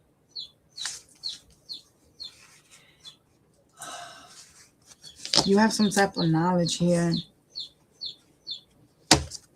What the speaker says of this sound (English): Why them birds is twerping like that